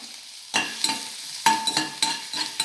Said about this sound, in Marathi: आता त्याच्यामध्ये आपण बारीक चिरलेला लसूण बारीक चिरलेला अद्रक हिरवी मिरची टाकूया